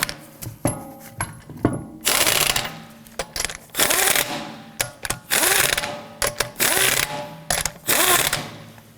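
A ratchet snugs down lug nuts on a Toyota Camry wheel, sounding as bursts of rapid close clicking with short pauses between, loud and mechanical, with no talk over it.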